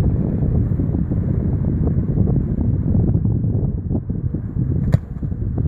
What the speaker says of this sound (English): We have a lot of wind from right to left, a lot.